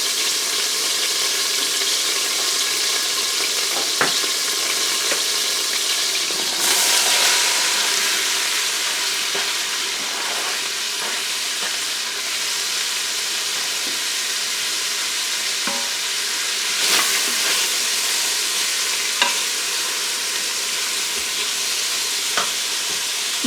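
Vegetables sautéing in olive oil inside an Instant Pot, a steady close sizzle and crackle with occasional stirring clinks and scrapes, no talk.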